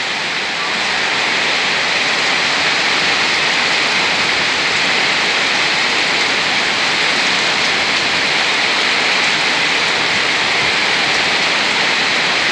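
Heavy storm rain pours down steadily, a dense, loud, unbroken hiss of drops on surfaces close by, lasting the whole time with no voices.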